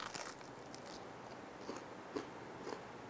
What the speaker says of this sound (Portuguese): Crocante, gostoso. Bolacha de provolone.